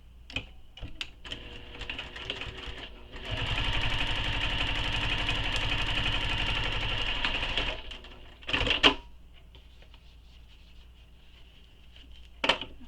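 A sewing machine stitches a starburst pattern in one sustained run of rapid, even mechanical clatter lasting several seconds, bracketed by scattered clicks, handling knocks and a brief burst of fabric rustle.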